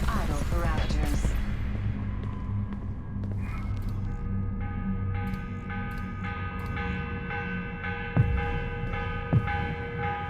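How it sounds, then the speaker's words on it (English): A morning church bell rings in the video game Assassin's Creed Revelations, repeated resonant strikes with long humming overtones, each stroke sounding clearly over a low ambient drone, with occasional louder hits near the end. "The morning bell."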